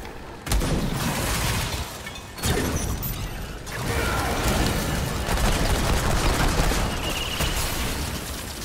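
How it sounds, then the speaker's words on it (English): A nearby bomb blast in the video game Remnant 2, a loud low boom at the start followed by a second heavy burst and rumbling, clattering game noise throughout, with no talk. "close bomb"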